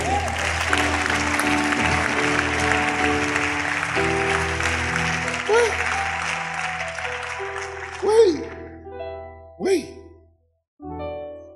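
A church congregation applauds and cheers in a broad, sustained roar of clapping, while a voice speaks over it and sustained tones ring beneath, the noise tapering off into scattered vocal exclamations.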